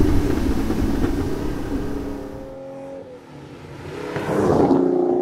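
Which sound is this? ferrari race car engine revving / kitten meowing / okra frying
ferrari race car engine revving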